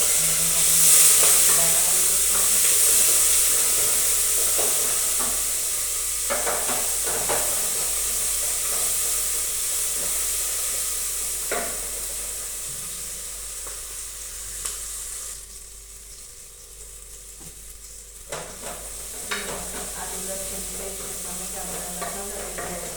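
Curry leaves, ginger, garlic, green chillies and tomatoes frying in hot oil for a home-cooked sabzi, a steady loud sizzle and hiss with occasional stirring scrapes and clinks throughout, no talk.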